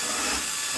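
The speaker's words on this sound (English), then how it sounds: "So now I can pre-drill this back." Power drill with a countersink bit boring a pilot hole in wood while building a shaper fence, a steady close whirring hiss for under a second.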